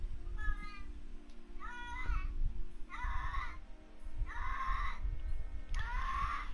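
A pet cat meows for attention in five separate, evenly spaced calls, each a rising-falling whine over a low steady hum of game music.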